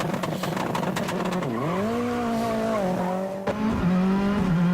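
A car engine revs and drops in pitch with a sweeping tone, like race or rally cars passing loudly and continuously for several seconds without talk.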